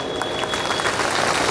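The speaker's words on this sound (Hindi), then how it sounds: "ऐसा ही थोड़ा जोरदार ताली बजा कर" An audience at a religious katha gathering clapping loudly, a dense, steady burst of many hands applauding together, fairly close and sustained across the whole moment.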